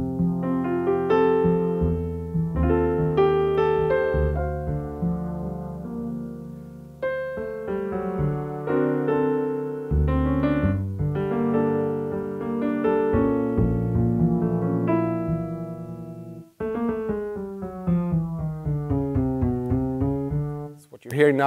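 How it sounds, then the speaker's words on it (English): A Nord Piano 4 set to a bass and piano split plays chords and bass lines, the tones overlapping and crossfading as the playing moves around the split point, with clear sustained notes and no talking. "what you're hearing now is that as I move, it's kind of like a crossfade into the other sample almost"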